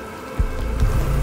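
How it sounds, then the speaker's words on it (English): Heavy rain pours in the Cyberpunk 2077 video game, a dense hiss that swells into a louder, fuller downpour after a brief quieter start. "Rain's pouring."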